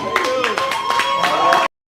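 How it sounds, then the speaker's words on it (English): An audience claps for a contestant with a short round of scattered, moderately loud hand claps that cuts off abruptly, while a voice carries over it. "She's still getting claps"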